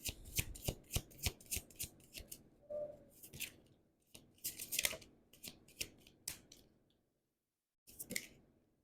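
Tarot cards shuffled and handled at close range, a run of crisp riffling snaps and soft slides in irregular bursts with brief pauses, ending in a short silence and one last flick.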